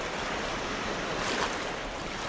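Ocean waves around a swimmer make a steady, full-bodied wash of surf and water noise, continuous and fairly loud, with no voices.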